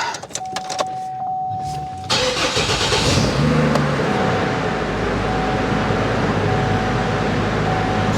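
A Chevy engine cranks and catches after a VVT solenoid replacement, the starter's whine giving way to a loud, steady idle that settles and runs evenly, up close.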